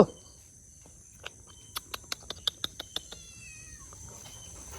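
A rapid series of about eight short, high kitten cries, fairly faint and somewhat distant, over a quiet steady background hum.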